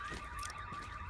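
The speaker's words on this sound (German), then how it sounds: "Die Alarmanlagen der Autos gehen wieder an." Car alarms blaring in the video game The Division, a steady high wailing tone that holds loud and continuous with no pause, mixed with a low rumble of game ambience.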